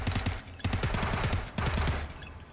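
Rapid automatic gunfire in the VR shooting game Hot Dogs, Horseshoes & Hand Grenades, loud and near, in three dense bursts of fast rattling shots separated by brief breaks.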